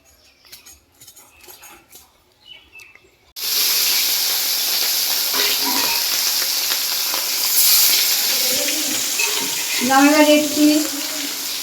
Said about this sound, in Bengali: রুই মাছ ভাজছি আর এদিকে লুচির তেল গরম হয়